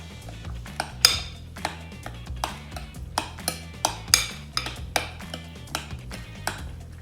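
Seasoned ground turkey and egg are mixed in a bowl, producing repeated clinks and knocks of a utensil against the dish in an uneven rhythm over a steady low musical background.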